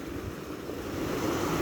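Ocean surf on a beach with moderate wave activity, a continuous broad roar that swells slightly louder toward the end, with wind buffeting the microphone and no voices.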